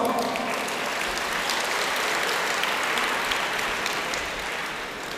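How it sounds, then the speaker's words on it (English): Steady applause from an audience at a polytechnic annual day celebration fills the hall, a dense wash of many hands clapping at moderate loudness that tapers slightly toward the end. "Give a big round of applause."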